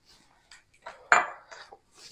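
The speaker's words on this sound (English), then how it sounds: "And now I've got to stir the dickens out of this." A spoon stirring pudding mix into cold milk in a bowl for a chocolate peanut butter pie, a few separate scrapes and clinks against the bowl, close and fairly quiet, with short pauses between them.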